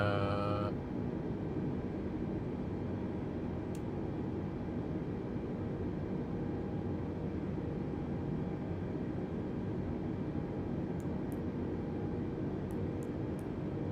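An airliner taking off from Wellington in Microsoft Flight Simulator, a steady, loud, broadband engine roar that holds level throughout, with a few faint clicks and no talking.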